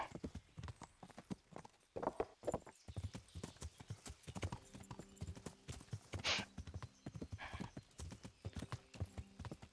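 Horse hooves clip-clopping at a steady trot in the medieval game Kingdom Come: Deliverance, with a brief whinny partway through and an ambient background, no talk over it.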